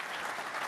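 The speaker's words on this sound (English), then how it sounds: "we could give a round of applause" An audience at a closing session gives a round of applause, a dense, even burst of many hands clapping throughout, short and sustained at moderate loudness.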